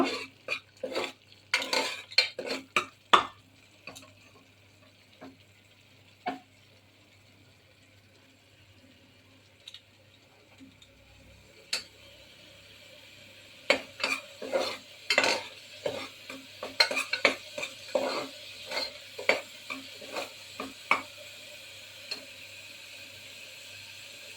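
Moong dal mixture with chili powder being stirred and roasted in a pan for sabut moong kadhi, scattered spoon scrapes and clinks over a soft low sizzle, growing busier and more frequent toward the end, without talk.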